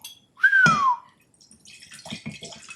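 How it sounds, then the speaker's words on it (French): One short whistled note slides downward in pitch and is followed by faint clinks and rustling. "Vous sifflez bien, chef."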